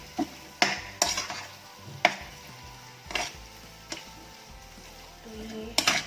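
Onions and spices are mixed and mashed in a pan with a utensil, giving sharp irregular scrapes and knocks against the metal over a soft sizzle, close by, with light talking in the background.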